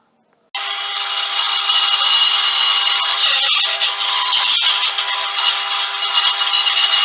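Bandsaw runs loud and steady in a workshop, its continuous buzzing whine broken by brief dips and scrapes as material is fed through the blade.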